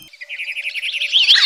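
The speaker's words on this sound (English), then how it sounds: "Come, listen to the sounds of these birds." A wild bird in Anhui Province, China, gives a loud, close, rapid trilling call that rises in pitch over about a second, heard alone without talk.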